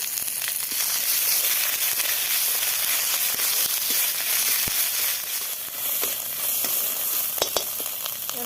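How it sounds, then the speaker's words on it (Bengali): Bay leaf, mustard seeds, radhuni, fenugreek and ginger paste sizzle in hot oil while a temple-style Bengali dal is being prepared. The frying is steady and close, with no talk, and a few sharp pops stand out. "এবার তেলে তেজপাতা দিয়ে দিলাম সর্ষে রাঁধুনি আর মেথি দিয়ে দিলাম আর আদা বাটা দিয়ে দিলাম"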